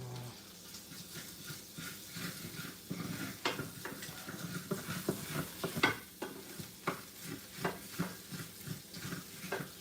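Garlicky lemon shrimp and peppers frying in a pan, a soft sizzle under repeated clicks and scrapes of stirring and utensils against the pan, close and fairly quiet.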